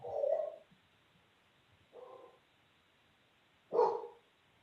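A dog barks during a town council meeting held over a remote call, giving three muffled, tinny barks spaced a couple of seconds apart against near silence.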